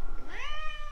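A pet cat gives a single close meow that rises in pitch and then holds a drawn-out tone for under a second, with no voices over it.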